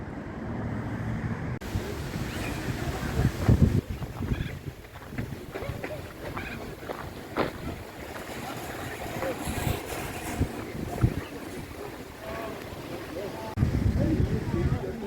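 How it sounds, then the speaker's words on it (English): A paddle steamer cruises on the river at Echuca as gusty wind buffets the microphone over a low rumble of water and engine, while a voice talks through much of it. "Well, I'm on another paddle steamer."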